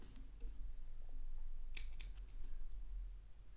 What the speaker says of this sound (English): Let me just trim these ends off